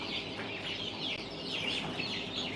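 Chickens, among them young birds kept alongside roosters, cluck and chirp repeatedly over a steady background at a moderate distance, with no people talking.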